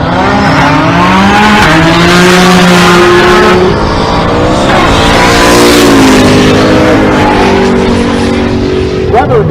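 A Camaro and a Nissan GTR launch side by side in a drag race at Pueblo, Colorado, loud engines revving and rising in pitch through gear changes, with an announcer talking over the roar.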